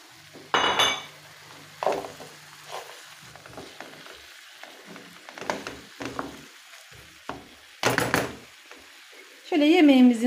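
Chicken drumsticks are dropped into a pot of roasted potatoes for a boiled chicken dish, giving a few clunks of pot and utensil with brief sizzling bursts in a quiet kitchen, and a voice talks in between.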